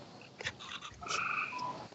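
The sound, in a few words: frog croaking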